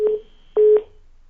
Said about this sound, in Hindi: फोन डिस्कनेक्ट हो चुका है